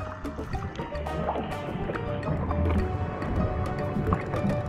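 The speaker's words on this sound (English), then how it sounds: "Doing some kayaking today on the Pray for Nathan show. Out here in the ocean of Cuba." Kayaking on the ocean off Cuba brings close paddle splashes, drips and gurgling water against the boat, a busy irregular liquid texture at moderate level with no speech.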